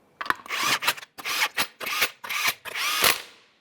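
An impact power tool spins on the 21mm lug nuts of a 2014-2018 Mazda 3 front wheel, firing in six loud close bursts with short pauses between them.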